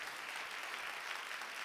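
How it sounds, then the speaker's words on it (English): Noble guests in a royal hall applaud, a dense and steady wash of clapping from many hands that holds at the same loudness throughout, with no voices. "The noble guests in the room started clapping when they heard the name."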